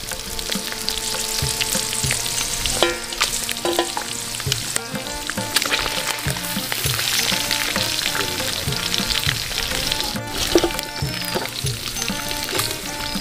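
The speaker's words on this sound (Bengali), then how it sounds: "দেখুন বন্ধুরা কত সুন্দর আমাদের কুচো মাছটা ফ্রাই হয়ে গেছে, এটাকে এখন আমরা তুলে নেব।" Small kuche fish, snake-like swamp eels, fry in hot oil in a pan, giving a dense, continuous crackling sizzle with scattered pops and a few utensil clicks throughout.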